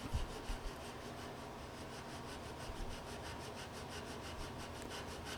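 A Japanese pull saw cuts through the heel of a classical Ibanez guitar neck in quick, even back-and-forth strokes, a close, steady rasp of wood with no voices.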